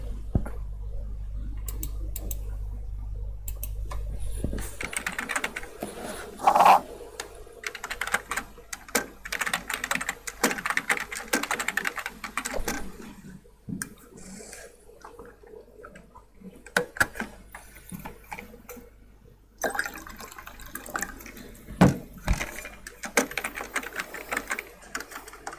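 A solar panel junction box removal machine runs in bursts of rapid clicking and clattering, with intermittent mechanical taps and a low hum at the start, moderately loud and close.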